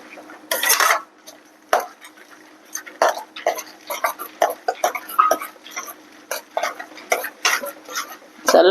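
A spoon scrapes and clinks against a pan while a puffed rice mixture is stirred over a low flame, in irregular bursts of close metallic scraping with short quiet gaps between strokes.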